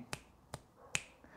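Three crisp finger snaps sound close and clear, spaced about half a second apart, in an otherwise quiet room.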